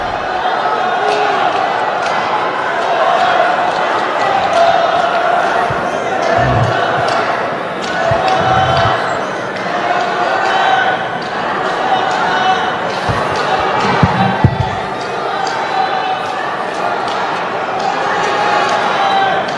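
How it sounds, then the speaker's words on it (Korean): Applause and crowd noise from the audience at a People Power Party rally for party leader candidate Cheon Ha-ram, a dense, steady wash of clapping that fills the whole stretch, with bursts of thumping claps and a voice over the din. "천하람 당대표 후보께도 여러분 다시 한번 큰 박수 보내주시기 바랍니다"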